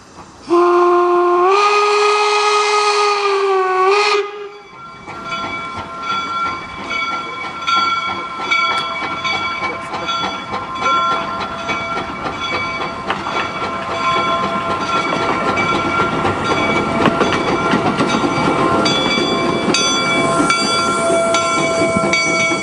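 A loud steam locomotive whistle sounds in a long sustained blast as it approaches, then the train rumbles steadily past with clanking and rolling noise, at Golden Spike National Historic Site.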